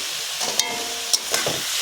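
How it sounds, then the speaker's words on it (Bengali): Bottle gourd cooks in milk with sugar stirred through it. A steady close sizzle runs throughout, broken by a few soft scrapes of the spoon. "চিনি দিয়ে আবারও ভালো করে আমি নাড়াচাড়া করে নেব"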